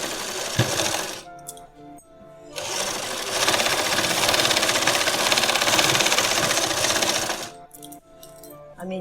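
A sewing machine runs a double line of stitching through fabric while stitching a sharara pant, with a loud steady whirring burst in the middle that starts and stops with short pauses before and after.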